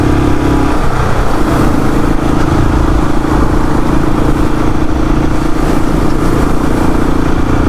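Royal Enfield Classic 500 Tribute Black Edition single-cylinder engine droning steadily at freeway speed, loud and close with constant wind rush and no rise in revs.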